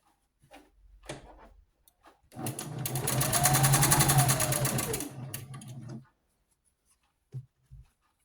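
A sewing machine stitches together scrap fabric pieces for a doll quilt, running in one steady, close, whirring burst of about three and a half seconds, framed by light handling clicks before and after.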